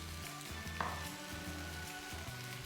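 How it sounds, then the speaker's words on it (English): Vegetable hash with spring onion and a large handful of spinach sizzles and crackles steadily in a frying pan, with a brief clink and soft stirring scrapes partway through. "you just literally just give that a little stir around"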